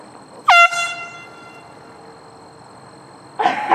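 An air horn blasts once across a golf course, a loud, short honk that rings out and fades, followed by quiet open-air ambience and a brief rustle near the end.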